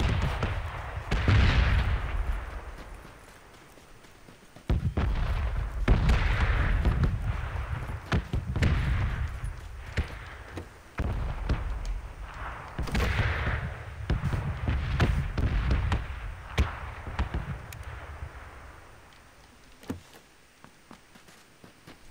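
Gunfire in a video game: repeated bursts and single shots with booming explosions, coming in uneven clusters over about twenty seconds, fairly distant and muffled, with no talking.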